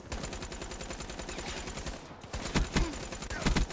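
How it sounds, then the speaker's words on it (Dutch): Sustained automatic gunfire from the video game Black Ops 3 rattles in steady rapid rounds, pauses briefly, then resumes with louder, heavier bursts near the end. "Ik moest gewoon 42 kogels in hem schieten."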